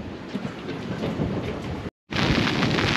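Heavy rain and gusting wind outdoors at an airfield beside a parked plane in freezing weather, a steady loud broadband roar close to the microphone that drops out briefly partway through, with no talking.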